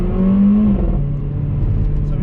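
Mercedes A45 AMG, 381 bhp, revving as it drops gears while slowing, a loud, close engine note that rises and then settles into a steady hum from inside the car.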